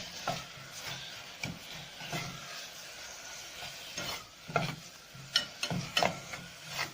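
Spiced onions sautéing in a pan, seasoned with spices, salt and black pepper: a steady soft sizzle with a spoon scraping and stirring in irregular bursts, getting busier toward the end.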